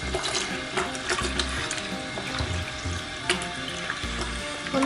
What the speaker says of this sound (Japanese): ここでまたしっかりと水ですすいでいきます